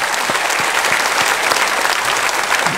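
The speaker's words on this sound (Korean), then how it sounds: "우리 발리 우리 인도네시아 캠프팀 감사의 박수 드립시다." A church congregation at a Friday worship service gives a round of thankful applause for a mission camp team back from Bali, Indonesia: loud, continuous clapping from many hands throughout, with no speech.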